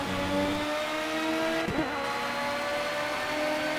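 Race car engine in the video game Project Cars, a steady loud whine with harmonic tones that shift briefly mid-clip, heard alone without talk.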